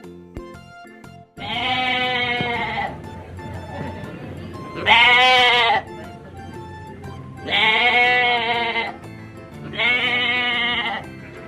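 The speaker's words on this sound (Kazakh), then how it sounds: "Қошқар." A ram bleats four times in long, loud, quavering calls separated by short pauses, with no other sound around it.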